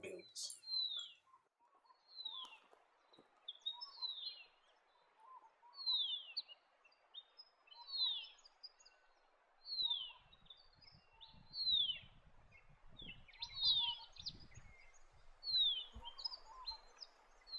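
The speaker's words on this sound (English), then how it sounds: "In summer, Horsfield's Bronze-Cuckoo frequent the woodlands of the New England." Horsfield's Bronze-Cuckoo calling in woodland in the New England region: a thin, high descending whistle repeated over and over at a steady pace, fairly faint, with a narrator speaking quietly underneath.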